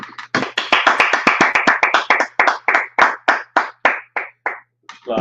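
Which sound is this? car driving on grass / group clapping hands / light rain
group clapping hands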